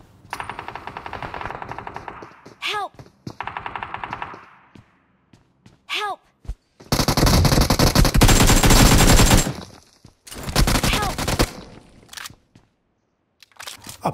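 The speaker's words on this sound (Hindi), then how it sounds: "इवेंट की उस तरफ से भी फायरिंग की साउंड आ रही थी" Bursts of automatic gunfire from the mobile battle royale game BGMI, loud and close, with short rapid volleys, a few isolated shots, then two long sustained streams of fire near the end.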